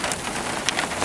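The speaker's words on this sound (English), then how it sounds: "Raining again in South Alabama." Steady rain falls on a surface in South Alabama, a dense, even hiss of drops that fills the whole short stretch with no voices.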